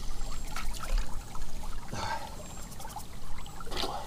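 Water of a shallow forest stream trickles and pours over stones, a steady close burble with small splashing accents, heard on its own.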